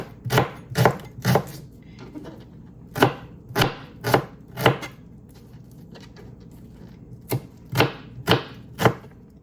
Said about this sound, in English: I'm just gonna lay the onion flat, and I'm just gonna chop it up this way